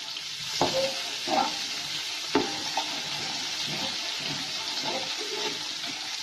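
Green chillies frying in a pan for a one-to-two-minute roast while making aloo methi, a steady close sizzle with a few soft stirring knocks and scrapes, no talking.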